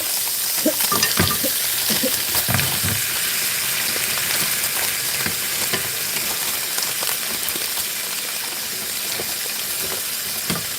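Steady sizzling and crackling of peaches cooking in a hot pan on a stove burner, a continuous bubbling hiss with scattered pops.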